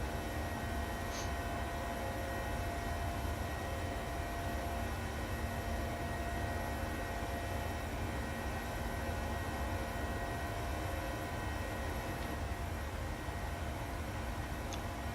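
A PMDG 737 airliner climbs after takeoff in a flight simulator, its jet engines giving a steady, loud, broadband roar with a faint whine, unchanging and without talk.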